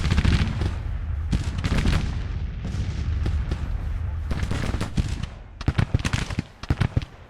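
Musket volleys crackle in the Civil War strategy game Grand Tactician: The Civil War, loud ragged bursts of many shots with short pauses, sharper scattered reports near the end.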